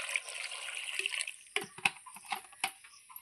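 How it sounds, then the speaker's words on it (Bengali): A small amount of water poured into a cooking pot of diced potatoes and gathi kochu taro for a curry, a brief splashy pour followed by a few soft clattering knocks and faint dribbles, close and fairly quiet, with no talking. "এরপর দিয়ে দিচ্ছি সামান্য একটু জল"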